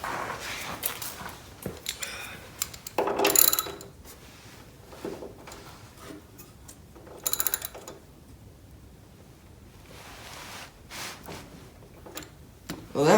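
Wrench tightening a bolt on a mower's tensioner pulley, with bursts of ratcheting clicks and metallic scraping separated by quieter gaps, close and fairly loud.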